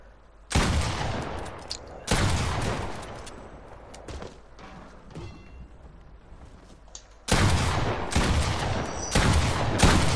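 Bursts of gunfire in the video game Fortnite, loud sharp volleys in several separate clusters with quieter gaps between them.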